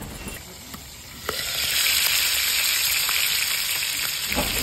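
Pork pieces fry in a pan while being browned on the second side, a steady loud sizzle that swells after a brief quieter start and holds continuously, with a few scraping stirs.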